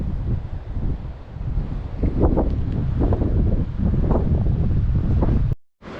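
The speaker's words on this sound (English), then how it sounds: "The wind just continually blows them like it is now" Wind gusts across the microphone on the Oregon coast, a loud, continuous blustery roar that surges and fades, cutting out abruptly near the end.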